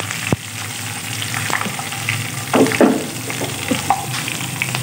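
Steady sizzling of cumin seeds and green chillies in hot oil for a tadka, with crackles and a few stirring scrapes, close and continuous, no voices.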